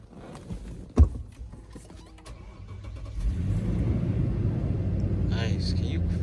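A Lexus LX570 engine cranks and catches, moving from a sharp click and quiet rumble into a louder steady idle, with a person's voice briefly over it near the end.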